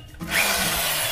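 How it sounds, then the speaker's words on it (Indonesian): A power drill whirs steadily after a brief quiet start, boring into white pipe for a DFT hydroponic installation, close and loud with a constant grinding tone. "kita siapkan bor"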